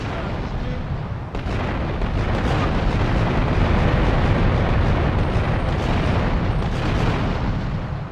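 A car bomb detonates and levels a building in the video game Grand Theft Auto: Liberty City Stories, a loud, sustained roaring rumble of blast and collapsing debris that fills the whole stretch without pause.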